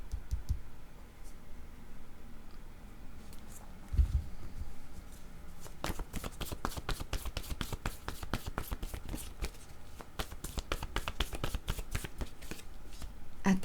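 A deck of cards is shuffled up close in a busy, rapid flutter of riffles and clicks that grows denser partway through. Quiet room tone sits underneath.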